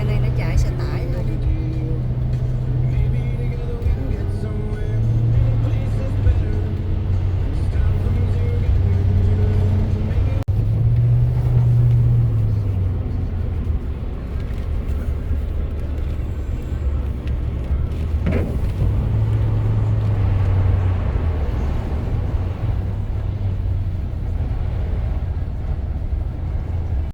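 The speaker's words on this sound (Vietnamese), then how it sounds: "Giờ này là xe này nó chạy xe tải thôi." Trucks drive along a road during a snowstorm, their engines rumbling steadily with tonal drones that swell and fade as vehicles pass, while people talk throughout.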